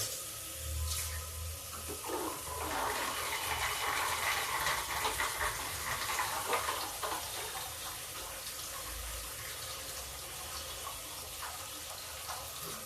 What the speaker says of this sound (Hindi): अब हम इससे डाल देते हैं पानी